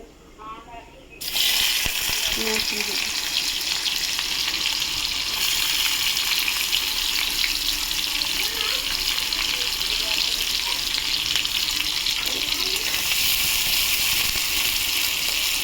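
A generous amount of oil in a wok on the stove breaks into a loud, continuous sizzle after a quiet second, holding steady and close for the rest of the clip with faint talk underneath.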